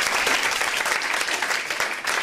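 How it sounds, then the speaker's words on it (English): A church congregation at New Generation Ministries bursts into brisk, dense applause, many hands clapping together at close range for a couple of seconds, with faint crowd voices underneath. "Come on, y'all clap your hands for that."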